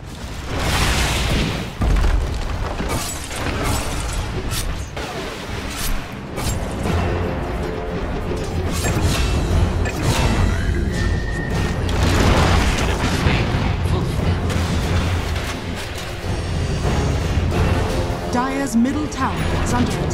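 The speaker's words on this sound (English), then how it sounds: "Dire's middle tower is under attack." Game sounds of a tower under attack in Dota 2, Dire's middle tower taking hits amid a busy battle mix of booms, bursts and clashing effects, steady and loud throughout with an announcer voice over the action.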